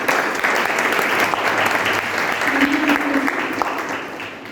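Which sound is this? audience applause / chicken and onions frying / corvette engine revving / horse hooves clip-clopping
audience applause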